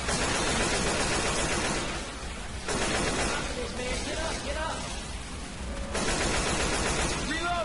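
Rapid automatic gunfire in the zombie shooter Left 4 Dead 2, dense bursts nearly continuous across the clip with brief dips, loud and close under game noise and someone talking.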